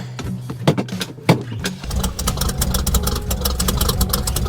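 A Ford Mustang engine starts up and settles into a loud, rumbling idle close by, with a few sharp knocks and clicks before it catches.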